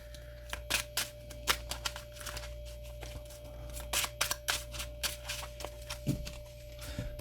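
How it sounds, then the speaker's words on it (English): A deck of trading cards is shuffled by hand in a run of quick, crisp riffling bursts, fairly close and quiet, with no talking. "So we're going to shuffle pretty decently."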